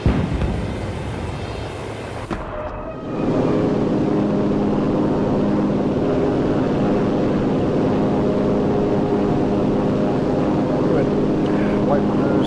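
Steady propeller airplane engine drone in the video game Enlisted, loud and continuous after a brief dip, with a voice talking over it.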